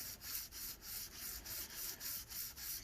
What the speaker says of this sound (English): I started with 400 grit sandpaper to see if I could get the lines out with that.